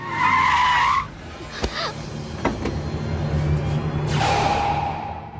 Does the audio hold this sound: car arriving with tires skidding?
yes